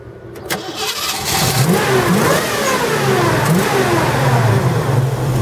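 A 1967 Ford Mustang with a 302 cubic inch V8, Holley carburetor and five-speed manual gearbox cranks and fires, then revs up repeatedly in strong rising pulls before holding a rough, loud idle.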